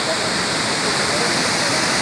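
A river waterfall where a stream drops into the Saar at Saarburg, Germany, roars in a dense, constant rush of broadband noise, loud and unbroken throughout.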